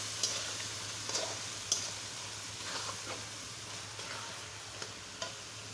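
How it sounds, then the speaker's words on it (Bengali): Fish pieces are sautéed in spice paste in a pan, with a soft, steady sizzle and occasional sharp clicks of a spatula against the pan. The sounds are quiet and close, with no voices. "আজকে মাছগুলো মশলার ভিতরে দিয়ে কষিয়ে নেব সুন্দর করে"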